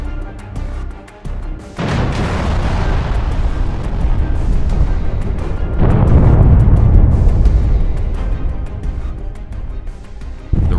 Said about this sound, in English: They deployed a Su-34 aircraft equipped with heavy glide bombs FAB-250 and began bombing the border checkpoint on their territory.